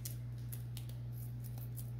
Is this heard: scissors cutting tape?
yes